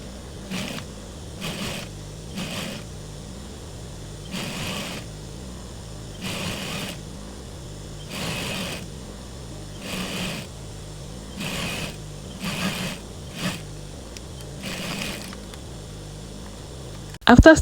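A sewing machine stitches fabric rope in repeated runs of steady mechanical whirring, each lasting about a second with brief pauses between them. The bursts are moderately loud and close, and a louder handling clatter comes at the end.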